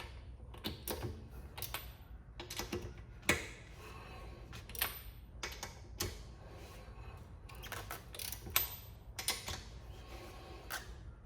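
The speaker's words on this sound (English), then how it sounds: "we'll take the torque wrench to it afterwards" A torque wrench tightening bolts in a workshop gives off a steady run of sharp mechanical clicks and ratcheting ticks, fairly quiet and close, with no talk.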